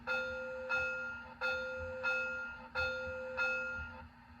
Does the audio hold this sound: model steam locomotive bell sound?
yes